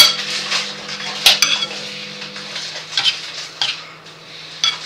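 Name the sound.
stirring and mixing a salad in a bowl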